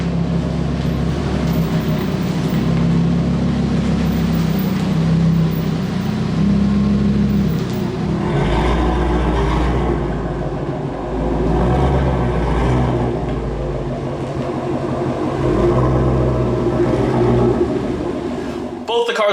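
Cars, including a Lamborghini, pull into a home garage with a deep, sustained engine rumble and occasional revving, loud and close, while someone talks over the sound.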